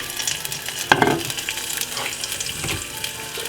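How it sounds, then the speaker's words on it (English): Liver with garlic sizzles and fries in a hot pan, with a sharp scrape and clatter near the start as it goes in, then a steady crackle and a later stir, close and alone without talk. "and scrape it in the front pan."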